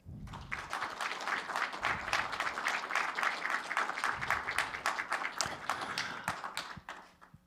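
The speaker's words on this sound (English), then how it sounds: "please agree with a big round of applause" A large audience at an inaugural society meeting breaks into dense, sustained applause that holds steady for several seconds before tapering off near the end, with no voices over it.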